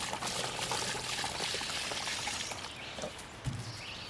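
Water poured from a container onto a garden on a homestead, a steady broadband splashing rush running the whole time with a small thump near the end, fairly close and alone.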